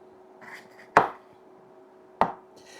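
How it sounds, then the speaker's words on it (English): A knife chops through an onion on a cutting board in two sharp, close, distinct strikes spaced about a second apart, with quiet handling noise between them. "Cut up my onion."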